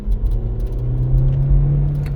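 A manual-transmission car held at full throttle, its engine droning loud and steady at a constant pitch for a couple of seconds, close up with no talking.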